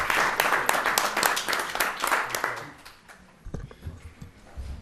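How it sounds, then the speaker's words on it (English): Applause breaks out for the new chairman at a Wareham selectmen meeting, a burst of clapping in a room that fades after about three seconds into a few scattered claps and rustling. "You have a round of applause for the new chairman,"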